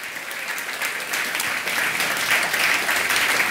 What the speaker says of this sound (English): can we give a warm round of applause to the whole staff and the family at Boathouse?